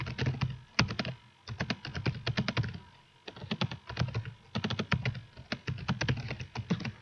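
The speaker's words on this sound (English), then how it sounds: "and just start typing." Steady bursts of typing on a computer keyboard, close and clear, with rapid key clatter broken by short pauses between runs.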